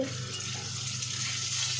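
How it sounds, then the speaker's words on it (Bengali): Fish sizzles in a pan, a steady, close, even hiss with no pauses. "আমার বোন এখন মাছ ভাজছে পটকা ভাজবে আলু ভাজবে পেঁয়াজ দিয়ে"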